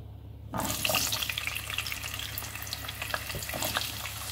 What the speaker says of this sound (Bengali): এই তেলে আমি এখন আলু ফ্রাই করে নেব।